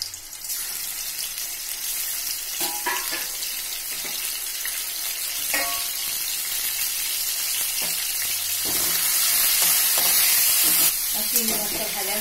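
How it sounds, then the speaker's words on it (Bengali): Prawns fry lightly in a pan with a continuous soft sizzle, broken by occasional clatters and stirring sounds that grow a little louder toward the end. "আমি চিংড়ি মাছগুলো অল্প একটু ভেজে নেব।"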